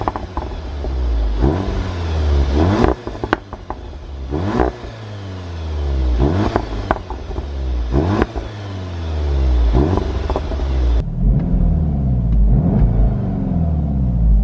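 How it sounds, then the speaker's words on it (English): A Seat Leon Cupra 300 engine revs hard several times, each rising roar ending in crackling exhaust pops and bangs, loud and close. "they got its own distinctive little exhaust note, pops and bangs and all of that stuff."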